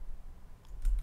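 Two or three quick, light computer mouse clicks land close together near the end, alone against faint room hiss.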